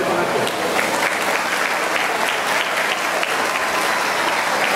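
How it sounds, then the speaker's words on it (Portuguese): Sustained audience applause at an evening spring dinner gala, dense and steady hand clapping filling the room at an even level, with faint voices mixed in. "Uma salva de palmas para essa Raquel."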